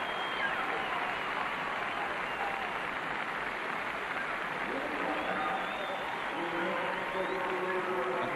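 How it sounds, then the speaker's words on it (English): A large stadium crowd at a 1500m race at the 1983 European Cup roars continuously from a distance, a dense wash of cheering and applause that holds steady throughout. "The crowd went with him and loved it."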